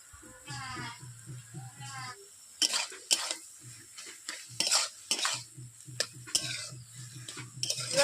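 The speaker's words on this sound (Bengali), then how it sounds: "এইভাবে আমি নেড়ে নেড়ে চচ্চড়ি রান্না করা আমার কমপ্লিট হয়ে আসছে" Kashla greens chorchori cooking in fish oil, stirred with a metal spatula that clinks and scrapes against the pan in repeated strokes over a light sizzle, with someone talking in between.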